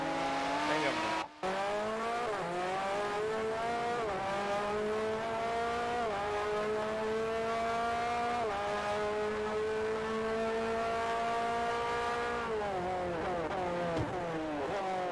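A Toyota race car in Forza Motorsport 4 holds a loud, steady, high engine note, rising and dropping through gear changes with tire squeal at times, close and continuous, with a voice talking over it.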